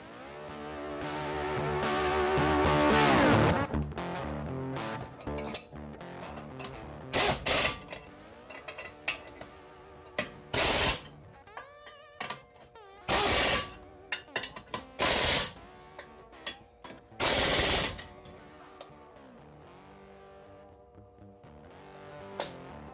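Metal parts clatter and ratchet while a rotor and brake caliper are fitted on a 1990 Jeep Cherokee, with a long ratcheting wrench run followed by sharp, separate bursts of clanks and clicks, close by.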